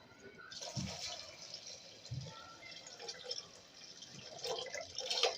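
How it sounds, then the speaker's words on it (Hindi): Water is poured into a cooking pot for egg corn soup, a soft splashing trickle at low level with a couple of brief thuds, faint and intermittent. "हमने यहाँ 3 कप पानी डाला है"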